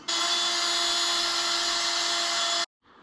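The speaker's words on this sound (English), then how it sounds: "drill a couple of pilot holes and then step up maybe 2 or 3 times through and drill out the holes" A power drill bores pilot and step-up holes through metal for a Jeep track bar bracket during a Teraflex Sport ST3 suspension lift, one steady high whine running loud and close for over two seconds before cutting off.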